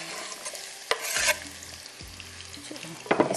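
Onions frying in a pan until browned, with a gentle continuous sizzle broken by a few sharp scraping stirs of the spoon, close up.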